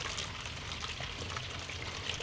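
Steady rushing water flows continuously from a strong-pressure tap during laundry, with a hissing, splashing texture and no voices present.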